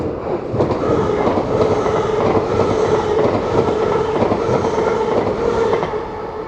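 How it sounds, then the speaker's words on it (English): A train rumbles loudly into platform 4 at Doncaster station, wheels clacking rhythmically over the rails with a steady low roar, easing slightly at the end. "The next train to arrive at platform 4 will be the"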